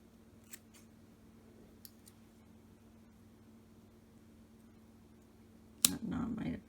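Scissors snip through a cord in one sharp, close cut near the end, followed by a short rustle, after several seconds of near silence.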